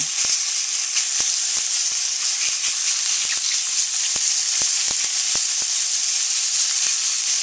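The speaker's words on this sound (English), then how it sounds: "that loud sound that you're hearing is stir frying" Loud, constant sizzling hiss of chicken stir-frying in a wok with garlic for lo mein, with sharp clicks and scrapes of a utensil tossing the food.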